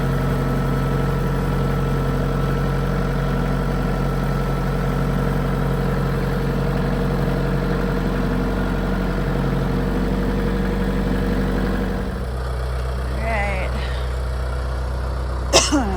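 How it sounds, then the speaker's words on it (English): A tractor's engine runs steadily while it is driven, a loud continuous low drone with a shift in tone near the end as the load changes, then a brief knock just before it ends. "Just me driving the tractor."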